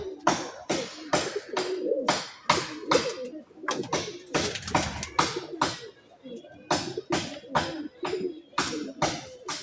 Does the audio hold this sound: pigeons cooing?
yes